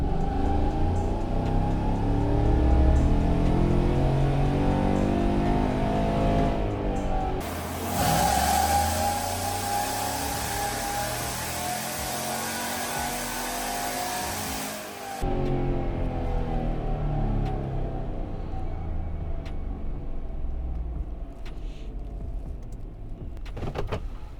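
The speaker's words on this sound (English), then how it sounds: "So we're in second gear locked. Dyno is started. Let's do another pull." A pickup truck with a GM L83 V8 and stage 2 cam runs on a dyno, its engine holding a steady loud drone locked in second gear, with a brief harsher surge partway through before settling back.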